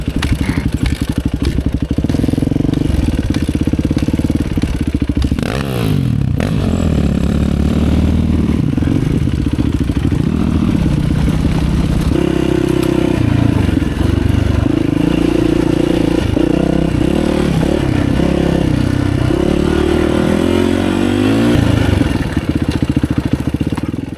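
Enduro dirt bike ridden along a trail, the engine loud and close as it revs and drops, with rattling clatter and scraping over rough ground and no talk.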